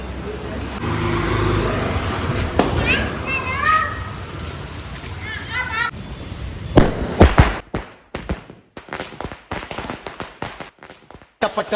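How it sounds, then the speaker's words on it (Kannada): Diwali firecrackers go off amid children's voices and passing traffic, first under a busy hubbub of chatter, then as a rapid run of loud, sharp bangs and crackles bursting close by in quick succession. "ಪಟಾಕಿ"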